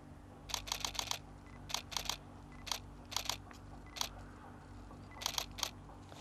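A Nikon D7500 DSLR fires its shutter in continuous shooting mode, producing several rapid bursts of crisp mechanical clicks separated by short pauses over a faint steady hum, close and clear with no talking.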